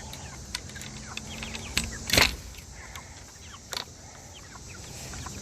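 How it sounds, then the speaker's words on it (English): Chickens in a newly built backyard coop crowding for food, giving a few sharp clucks and squawks over low scuffling, with one louder burst in the middle. "Being attacked by chickens, y'all."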